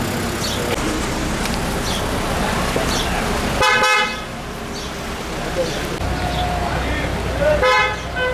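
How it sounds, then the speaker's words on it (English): Traffic jam in the old city of Jerusalem near the Lion's Gate, with steady engine and road noise and car horns honking in bursts, one loud multi-tone blast near the middle and another toward the end, while people talk in the background. "it's a traffic jam here in the old city."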